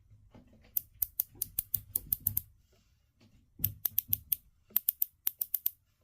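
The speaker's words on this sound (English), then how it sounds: "now let's check out the bezel action" Ratcheting clicks come from the coin-edge bezel of a Watchdives WD1969 Pro dive watch being turned, crisp close ticks in two quick runs separated by a short pause, with soft handling rustle underneath.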